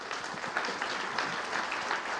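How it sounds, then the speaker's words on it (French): An audience at a round-table forum on water and climate claps briefly, a steady moderate patter of hands heard from some distance. "on peut vous applaudir"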